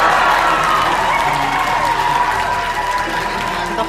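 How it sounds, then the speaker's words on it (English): A conference room crowd erupts at the announcement of NASA's Dragonfly mission to Titan, with loud sustained applause, cheering and screaming that fills the space steadily throughout, with voices shouting within the din. "everybody jumped out of their seats and was screaming and cheering"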